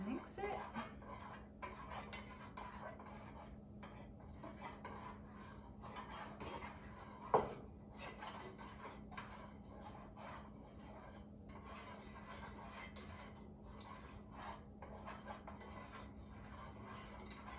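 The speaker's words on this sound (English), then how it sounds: "We're gonna add that into our wax" A utensil stirs fragrance oil into candle wax in a pot, making continuous close scraping and clinking against the metal with one brighter knock midway.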